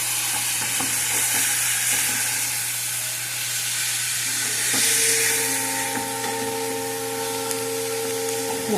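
Tomato and coriander mixture hisses and sizzles loudly in a pan, with scraping stirs and a clatter partway through, followed by a faint steady hum under the frying.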